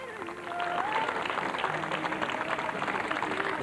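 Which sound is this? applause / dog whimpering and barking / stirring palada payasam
applause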